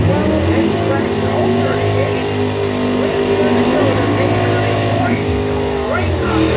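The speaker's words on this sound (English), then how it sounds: "Big Dragster moving in, coming up." A big dragster roars at Blue Oval Battle drag racing, its engine a loud, steady, dense drone that fills the whole stretch, while a commentator talks over it.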